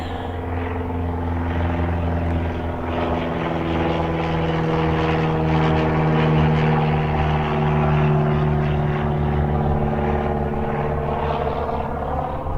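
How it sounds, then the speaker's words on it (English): A low-flying propeller plane passes overhead above an orange grove park in Mesa, Arizona, its steady droning engine hum loud and sustained throughout with no voices. "Another low flying plane."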